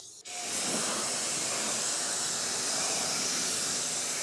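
A steady, loud hiss of water spray rinses a car during detailing. It starts abruptly after a brief moment and runs continuously close by, with no talk.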